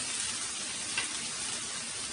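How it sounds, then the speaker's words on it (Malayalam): Marinated chicken, coated with chili powder and yogurt, sizzles loudly in a hot frying pan for curry leaves chicken masala, a dense, even hiss heard up close with no talking. "ഇനി നമുക്കിതിലേക്ക് ചിക്കൻ ചേർത്ത് കൊടുക്കാം."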